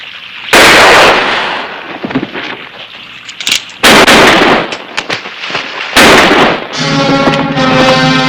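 Loud gunshots in a western shootout, three big cracking blasts that each ring out and fade, well spaced, with a ringing tonal sound near the end.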